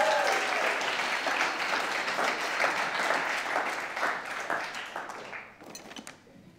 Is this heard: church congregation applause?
yes